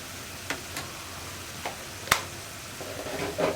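Turmeric and other spice powders fry in a pan while being stirred, giving a soft, steady sizzle close by with a few sharp scrapes and taps of the spoon, and no voices.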